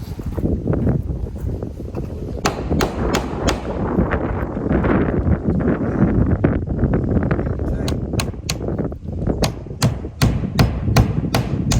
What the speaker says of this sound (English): Grab it, I'm gonna nail it off.